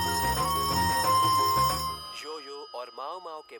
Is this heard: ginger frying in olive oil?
no